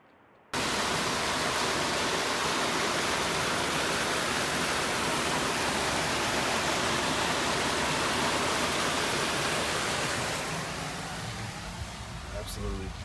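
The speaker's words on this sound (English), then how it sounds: "Look at that waterfall." Waterfall on the Imogene Pass 4x4 trail in Colorado, a steady loud broadband roar of rushing water that fills the clip after a brief quiet start and eases slightly near the end.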